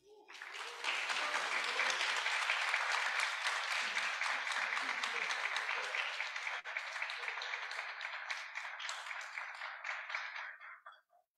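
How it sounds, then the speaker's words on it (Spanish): An audience at a bolero concert gives warm applause welcoming maestro Salvador Aponte, dense clapping that swells quickly, holds steady for several seconds, then tapers off and stops. "Les ruego que podamos ofrecerle un cálido aplauso para poder recibirlo"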